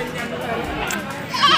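Goats bleat amid the bustle of a livestock market, short calls mixed with a voice and crowd murmur, fairly close but partly masked by the talking.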